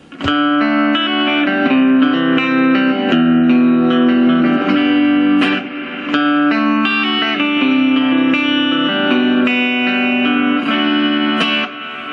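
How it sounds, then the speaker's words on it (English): An electric guitar plays sustained chords through a VOX Mini GO 3 amp's lush spring reverb, the notes washing and ringing out, loud and close with no talking. "The classic is the spring reverb. One of my personal favorites, a nice lush reverb sound."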